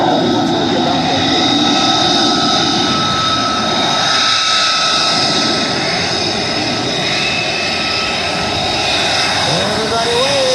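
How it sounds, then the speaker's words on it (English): An F-35 Lightning II fighter jet roars past the crowd line at the 2023 Wings Over Houston airshow, a steady, loud, broadband engine rumble with a high whine that fills the whole stretch while an announcer talks over it. "Calcite Bayo, who you just saw fly, is bringing that F-35 Lightning II right along the front lines here."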